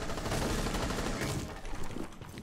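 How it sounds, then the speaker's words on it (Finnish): Dense gunfire rattles in a Rainbow Six Siege match, a loud, continuous fusillade of rapid shots that thins into scattered bursts toward the end, with no talking over it. "Mistä ne ampuu?"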